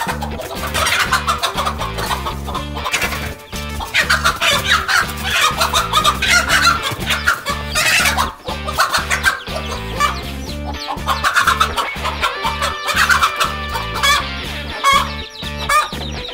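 A mother hen clucks loudly and rapidly in repeated bursts while fending off a hungry king cobra near her chicks, with the agitated fowl calls dominating throughout and no talk.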